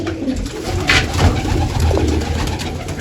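Pigeons coo in soft, throaty bursts close by, with a low rumbling background hum throughout.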